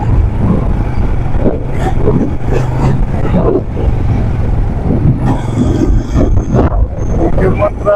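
Busy road traffic in the Makati to Valenzuela area of Metro Manila, with cars and engine rumble steady and close throughout, punctuated by occasional revving and a few higher mechanical whines, heard under people talking.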